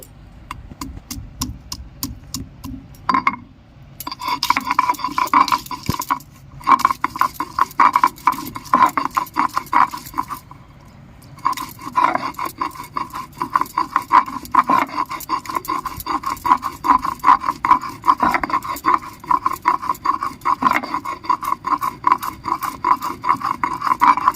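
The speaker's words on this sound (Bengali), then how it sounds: "রসুন আদাটা আমি বেটে নিচ্ছি" Garlic and ginger are ground into paste by hand on a grinding stone, a close, loud rasping scrape in rapid rhythmic strokes that repeats with brief pauses.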